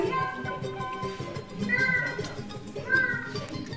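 A theater actor imitates a kitten meowing, giving several drawn-out, high mewing cries over a busy background of music and other sound.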